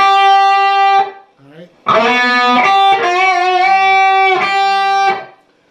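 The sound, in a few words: electric guitar lick with bends, releases and vibrato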